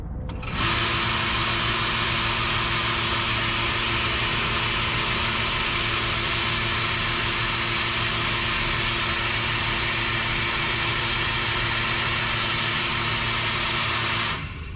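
Milking machine for a Jersey dairy cow starting up and running, a loud steady hiss of vacuum pump noise with a low hum underneath, switching on abruptly and continuing unchanged, close up, with no talking.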